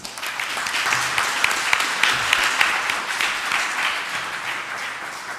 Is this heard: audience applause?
yes